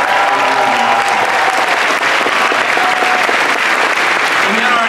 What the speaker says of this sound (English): if you guys could give an extra clap